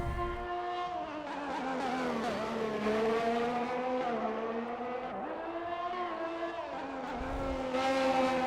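A Formula-style race car, an Alfa Romeo, in a racing video game at the Australia round: a loud, close engine note that rises and falls through gear shifts and revs, continuous with no talk.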